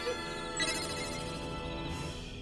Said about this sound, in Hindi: मोबाइल की रिंगटोन सुनाई दे रही है